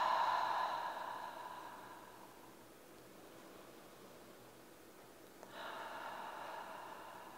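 A slow breathing exercise done in through the nose and out through the mouth, with an airy exhale fading over a few seconds before another soft breath starts, close and quiet with no talk.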